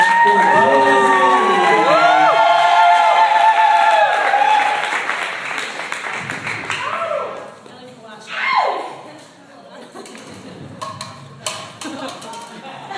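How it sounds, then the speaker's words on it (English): Audience at a comedy festival clapping and cheering a comedian's debut set, a crowd roar with shouts and whistles that fades into scattered claps, with speech over the start and a voice speaking afterwards. "Please give her a round of applause."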